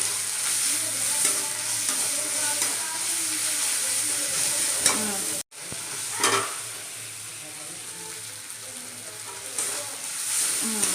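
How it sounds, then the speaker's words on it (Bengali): Green chillies, ginger and garlic frying in a pan for a shrimp and taro-stem curry, with a steady sizzle and scraping stirs throughout and a brief break in the middle. "ভালো করে নাড়ছি।"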